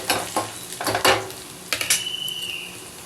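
Chopped ginger frying in oil for millet upma, a close sizzle with a cluster of metal spoon scrapes and clinks against the pan, then a thinner steady hiss.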